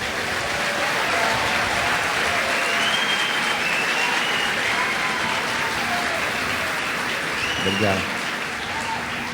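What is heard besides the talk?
audience applause in church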